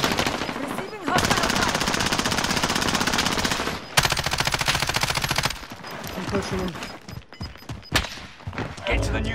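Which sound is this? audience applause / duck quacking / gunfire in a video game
gunfire in a video game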